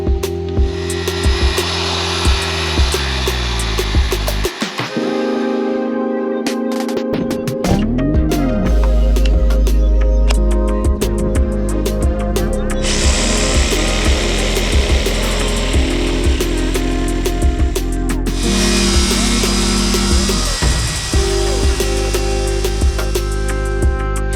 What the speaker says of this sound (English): I'm going to cut everything that is straight with a skill saw